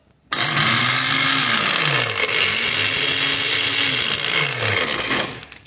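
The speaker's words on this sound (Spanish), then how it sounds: "recién ahí va a funcionar la licuadora" A Peabody PEL601 blender motor runs loud and steady for several seconds, its pitch dipping and rising twice before winding down at the end.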